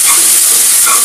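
Fried pointed gourd (potol) tossed with browned onions in a hot pan gives a steady, close hiss of sizzling oil, bright and continuous for about a second, with no talk.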